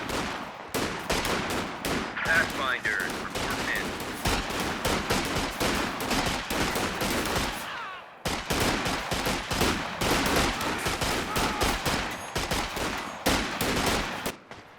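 Rapid, continuous gunfire in a Company of Heroes 2 two-versus-two battle: overlapping rifle and machine-gun bursts crackle without letup, broken by one brief pause midway, with no talking.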